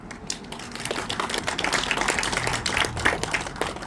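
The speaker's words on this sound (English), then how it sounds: "You're clapping at that." Scattered audience clapping at a trades high school ribbon cutting ceremony, a steady mid-level patter of many hands that swells slightly toward the end, with faint murmuring beneath.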